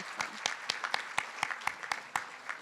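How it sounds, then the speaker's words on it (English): Scattered applause at an awards dinner honouring researchers, a small group of distinct, evenly spaced hand claps, fairly quiet and sparse, with no voices over them. "So let's give them a round of applause as well."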